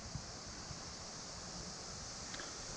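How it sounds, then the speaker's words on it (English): Steady broadband rushing of the middle falls at Letchworth State Park, a constant distant roar with faint wind and rustling. "You can actually hear the waterfall. I believe that's the middle fall."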